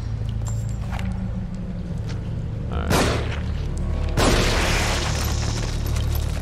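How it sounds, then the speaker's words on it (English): Two heavy gunshots from a handgun in the survival horror game The Evil Within, each a loud broadband crack near 2.9 and 4.2 seconds over a constant low game ambience, with no speech. "That's two shots."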